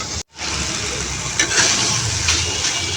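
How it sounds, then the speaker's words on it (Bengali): Banana flower fingers fry in hot oil with spices, giving off a steady, close sizzling hiss. The sound drops out briefly near the start, and a few sharper crackles pop up later. "এভাবে তেলে ভেজে নেবেন মশলার সাথে, খুবই ভালো লাগবে ফিঙ্গারটা"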